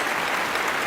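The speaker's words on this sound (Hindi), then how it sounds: "मुझे तालियों की गड़गड़ाहट सुनाई दी।" Thunderous applause from a theatre audience on an opening night, a brief, loud, unbroken wall of clapping with no voices over it.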